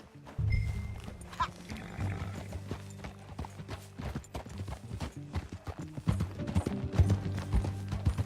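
Horse hooves clip-clopping during a ride in the video game Red Dead Redemption II, a steady rhythmic trot heard fairly close under a low musical score, with a brief voice early on.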